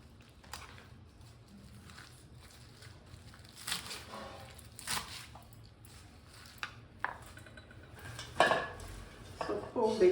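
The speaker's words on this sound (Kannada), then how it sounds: "ಈ ಥರ ಎಲ್ಲ ಸೊಪ್ಪು ಕಟ್ ಮಾಡ್ಕೊಂಡ್ಬಿಡೋಣ." Keere soppu (amaranth greens) cut on a board in a home kitchen, giving irregular soft knife taps and thuds with clinks from utensils, moderately near, with no one talking.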